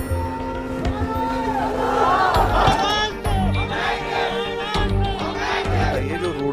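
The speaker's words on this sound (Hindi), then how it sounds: "रास्ते पर एक भीड़ जुटी थी" A crowd blocking a road in Kashmir, some holding sticks and stones, shouts and yells together in a loud, continuous din with overlapping raised voices close by.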